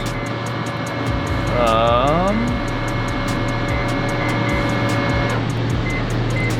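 A Mazda RX-7 rotary engine, still hot, drones steadily and loudly with a constant low hum and a rising whine partway through, as if cranking and then running.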